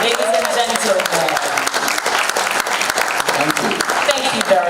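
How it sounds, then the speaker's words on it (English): Steady applause from an awards-ceremony audience fills the room, loud and continuous throughout, with some voices mixed in beneath the clapping. "Another round of applause for yourselves for being here."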